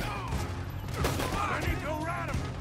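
Gunfire in Red Dead Redemption 2 cracks out as a rapid volley of sharp shots. The shots are fairly faint and mixed with game sounds, and a voice is heard partway through.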